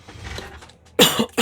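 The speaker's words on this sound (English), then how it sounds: "sorry about that cough" A single sharp, loud cough near the end follows a stretch of quiet background, with a short second burst right after.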